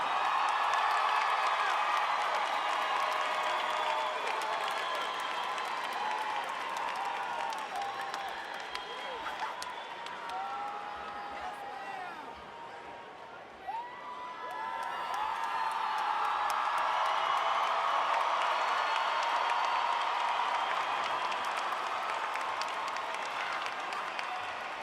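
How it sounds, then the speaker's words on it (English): Steady audience applause and scattered cheers fill a 2019 high school graduation ceremony, dipping briefly midway before swelling again, broad and continuous. "one final round of applause for our graduates"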